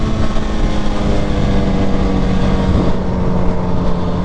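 A Suzuki Hayabusa sport bike pulls hard through first gear, its engine a loud, steady, droning roar that holds a constant pitch for several seconds, close to the rider with heavy wind rush and no talking.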